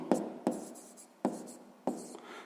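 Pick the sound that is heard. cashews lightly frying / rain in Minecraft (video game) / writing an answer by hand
writing an answer by hand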